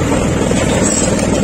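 A tractor engine runs steadily just after starting from cold, producing a loud, continuous close-up diesel drone with no pauses.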